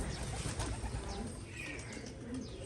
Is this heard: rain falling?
no